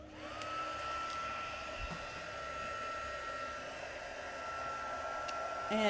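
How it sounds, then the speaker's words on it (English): A heat gun blows hot air onto embossing powder in a card-stamping session, a steady, close, whining whoosh that holds a constant pitch for several seconds. "heat gun here, and I'm going to heat this up"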